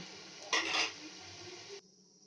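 Gulab jamun balls frying in oil in a kadai, a quiet steady hiss with a brief louder burst of bubbling and a light utensil clink before the sizzle drops away.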